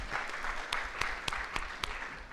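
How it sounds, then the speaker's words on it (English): An audience gives panelists a short, faint round of applause, with scattered distinct claps standing out over a soft patter. "Please, a big round of applause for them."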